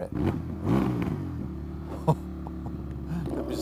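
An Indian FTR 1200 motorcycle engine revving while being ridden, a low, throbbing drone with a brief sharp bump partway through, heard steadily beneath wind noise.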